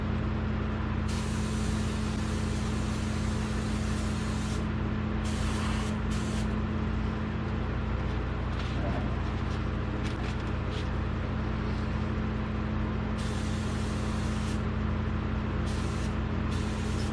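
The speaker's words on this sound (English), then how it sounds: "So let's get this paint in the gun and start spraying." Paint spray gun spraying under the hood of a 1952 Chevrolet Styleline Deluxe, a steady close hiss running throughout with bursts of brighter, louder spray as the trigger is pulled several times over a constant low hum.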